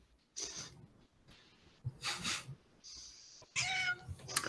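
A cat meows several times in short separate calls, close by and fairly clear, with breathy snorts between them during a tabletop gaming stream.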